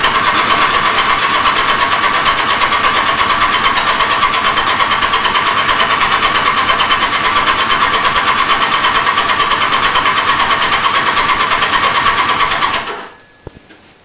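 A brand-new motorbike engine cranks continuously in a workshop, a steady loud whirring drone that runs for about thirteen seconds before cutting off abruptly into near silence.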